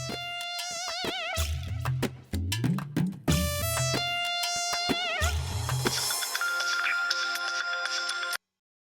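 An electronic phone ringtone plays a repeating melodic tune, loud and close, with bursts of bass and bright tones, then stops abruptly.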